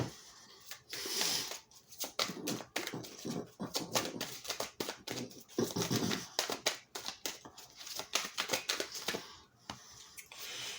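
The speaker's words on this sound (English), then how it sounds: "I'm just going to reshuffle it again here." Tarot cards are shuffled by hand in rapid, irregular bursts of riffling, slapping and sliding, close and fairly soft, continuing for several seconds with brief pauses.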